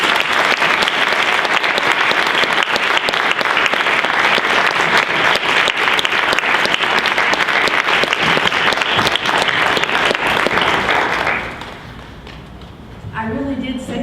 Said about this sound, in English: would you please give a rousing applause to our first speaker